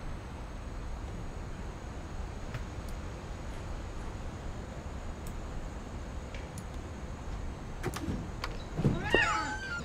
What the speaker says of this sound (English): Anyone else just hear a cat?